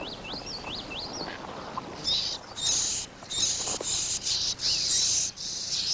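Yellow warblers singing in fertile shrubland, a few slurred whistled phrases at first, then bright high buzzy chirps and trills in bursts, fairly close over a faint background.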